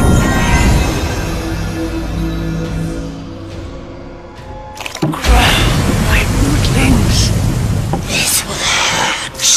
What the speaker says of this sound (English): This rain will kill you.